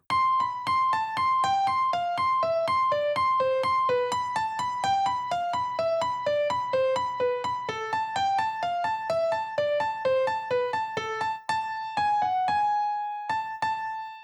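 A bright, quick right-hand piano melody from a Passacaglia runs in steady rapid notes over a sustained lower accompaniment, ending on a few held tones.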